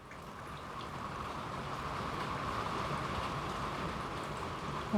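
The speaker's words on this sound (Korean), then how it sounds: "지금 갑자기 비가 엄청 오네요." A sudden heavy rain shower, a steady dense hiss of rainfall that holds constant and slightly swells over several seconds, with no talking over it.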